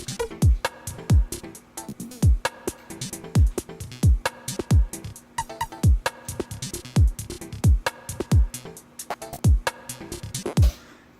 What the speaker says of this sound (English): trigger random samples using the FPC, but just by pressing one pad